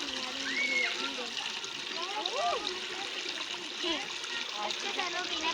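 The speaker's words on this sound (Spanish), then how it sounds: "hoy les voy a enseñar un río, miren." A river flowing through a forest, a steady nearby rush of water with a person talking over it and birds chirping.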